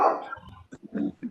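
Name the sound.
dog barking during online meeting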